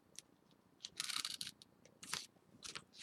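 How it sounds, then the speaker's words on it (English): A small utility knife slices through material for a door frame in quick, bright rasping cuts, several short bursts close by in a quiet room. "I'm using a little utility knife that I got for this."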